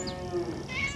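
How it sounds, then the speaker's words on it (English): A farm cat gives a single drawn-out meow, close and clear, lasting about a second with a slight rise and fall in pitch. "Bert Parker has kept farm cats for more than half a century"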